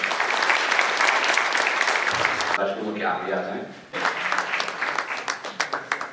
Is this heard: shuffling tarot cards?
no